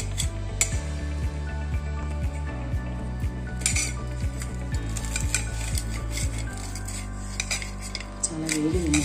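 A knife chops through hot fried chilli bajjis on a cutting board, giving a steady run of sharp, close knocks and scrapes with a faint kitchen hum underneath and no talking.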